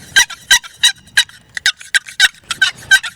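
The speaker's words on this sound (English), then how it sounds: "you can go take a box call, do a couple clucks, some yelps, you kill a turkey" A wooden turkey box call for turkey hunting gives a quick series of sharp, raspy clucks and yelps in an irregular rhythm, loud and close, with no talking.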